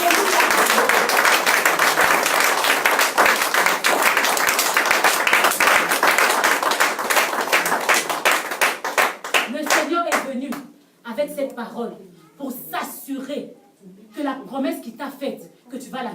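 Church congregation applauding and cheering loudly at a worship service, a dense sustained burst of clapping that thins out toward the end as a preacher's voice takes over.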